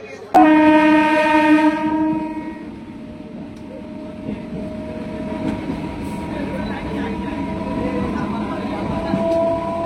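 A local train from Digha to Howrah rumbles steadily along the tracks, opening with a loud, sustained horn blast that fades as the continuous rolling noise carries on.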